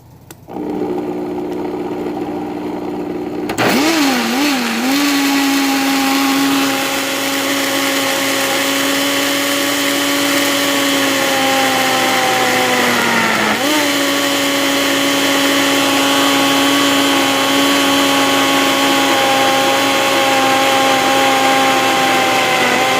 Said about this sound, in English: Let me get the lid to the SeaMoss. Well, not the SeaMoss, but the lid to the blender.